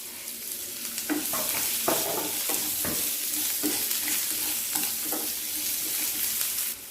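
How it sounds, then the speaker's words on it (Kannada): A large chopped onion fries in a pan with oil for a drumstick-leaf dish, giving a loud continuous sizzle broken by repeated stirring scrapes and clatters, close up and without talk. "ಆಮೇಲೆ ಒಂದು ಈರುಳ್ಳಿ ದೊಡ್ಡ ಈರುಳ್ಳಿನ ಕಟ್ ಮಾಡಿದ್ದೀನಿ ಅದನ್ನು ಹಾಕ್ತಾ ಇದ್ದೀನಿ"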